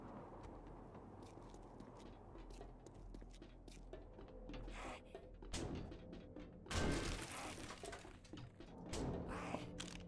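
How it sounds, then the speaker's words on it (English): In the video game 7 Days to Die, zombies bang on a door, making a faint series of irregular thuds and knocks that build to a louder crashing burst partway through. "Is that the door they're banging on?"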